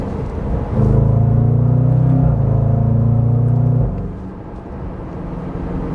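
A 2022 Range Rover Sport SVR Ultimate Edition with a deep, loud exhaust rumble that swells in as the engine revs, holds steady with a brief dip, then falls back to a low idle burble, close and without speech.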